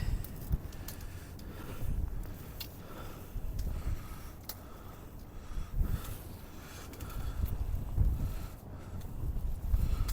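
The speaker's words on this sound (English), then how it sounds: "The net is just sticking to the wall because of the wind." Wind gusts buffet the microphone on a riverbank by the Mersey while fishing, a rough, rumbling low roar that swells and fades in waves throughout, loud and close with no voices.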